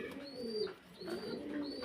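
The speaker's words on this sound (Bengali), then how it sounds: "হ্যাঁ এই হচ্ছে কবুতর জোড়া" A pair of Mundian pigeons cooing softly at close range, two low, rolling coos in a row in a quiet indoor space.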